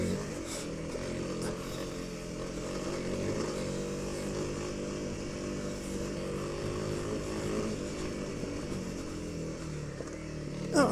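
Motorcycle engine droning steadily at speed for the whole stretch, a continuous mid-level roar with slight rises and falls as the bike is ridden briskly over rough ground.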